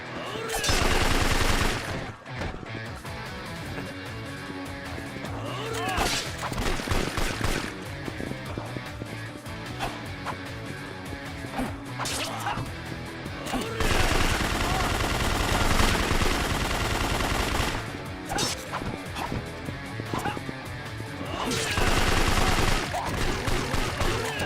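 Dense video-game gunfire with sustained automatic bursts and impacts, loud and nearly continuous, surging in heavy waves with brief lulls between volleys.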